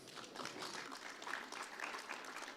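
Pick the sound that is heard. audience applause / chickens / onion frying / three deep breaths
audience applause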